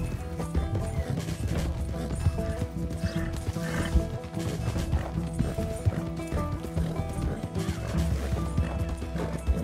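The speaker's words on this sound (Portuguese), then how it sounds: "Coitadinho do cavalo. Quando ele fica assim fungando, é porque ele tá sobrecarregado" Horse in Red Dead Redemption 2, overloaded and snorting, with steady clip-clop of hooves over a continuous dense bed of game sound and music, no talk.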